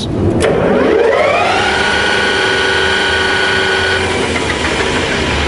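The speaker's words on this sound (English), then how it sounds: "Now let's just activate the spindle by the lever and we'll see how this machine runs." A HAFCO AL-336D Metalmaster centre lathe spindle starts up and spins, a steady loud mechanical whir rising in pitch as it comes up to speed, then holding an even hum close by.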